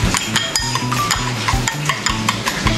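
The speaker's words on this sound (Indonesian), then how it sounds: "Kita aduk dulu guys. Diaduk merata." Food stirred in a pan for a pre-dawn sahur meal: repeated scraping strokes of a utensil against the pan over a steady sizzle, close and fairly loud, with no talking.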